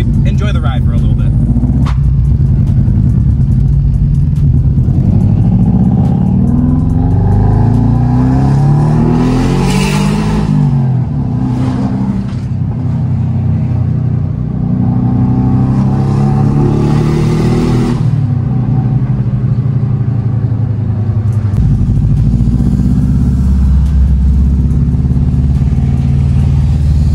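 A 2002–2003 Subaru WRX engine drones and revs while driving to a car wash, loud and continuous with surges of acceleration, road rumble and faint talk in the cabin.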